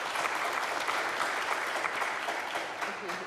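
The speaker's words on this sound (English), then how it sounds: "Round of applause" An audience applauds former smokers who have quit the habit, a dense, steady round of clapping from a crowd that holds evenly for about three seconds at moderate volume.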